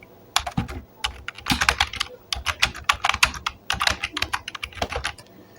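Fast typing on a computer keyboard while entering text on a PowerPoint slide, a dense clatter of close, crisp key clicks in quick bursts with short pauses between, alone without talk.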